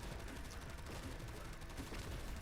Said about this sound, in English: radiation explosion